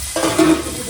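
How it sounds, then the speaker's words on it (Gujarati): Neem leaves, chillies and garlic hit hot oil in an Indian kitchen pan, a close, steady sizzle with a burst of stirring near the start. "લીમડો પાકી ગયો એટલે આપણે મરચાં અને લસણ નાખી દીધું."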